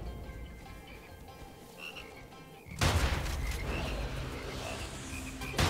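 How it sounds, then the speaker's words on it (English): Frogs in the video game Immortal Redneck croak, starting with a sudden loud burst partway through and continuing as a dense, noisy chorus against quieter game sounds. "Frogs, hello. Why did it have to be frogs?"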